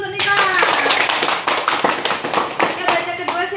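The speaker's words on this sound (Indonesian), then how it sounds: "Tepuk tangan dulu untuk Nita" A class of students claps for their classmate Nita in a schoolroom, a close burst of scattered individual hand claps with voices talking and calling out over the clapping.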